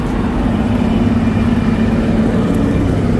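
An older Valtra A750 tractor idles nearby with a steady, loud low rumble that holds constant throughout.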